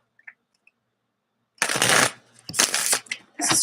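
Playing cards are shuffled in three quick, crisp riffling bursts after a near-silent start marked only by a few faint ticks. Each burst is loud and close.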